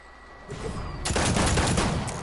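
Sniper gunfire in a Wild West themed video game, a cluster of loud, sustained gun blasts building after a quieter opening, close and dense.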